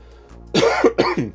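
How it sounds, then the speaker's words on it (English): A person with a cold coughs twice in quick succession, close and loud, after a brief throat rumble. "Sorry about all the coughing."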